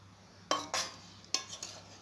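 Chicken pieces go one by one into a pot of biryani rice in a home kitchen, giving a few distinct metallic clinks and clatters of utensil against pot, spaced apart and fairly close, with no talk.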